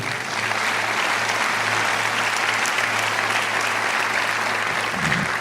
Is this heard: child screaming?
no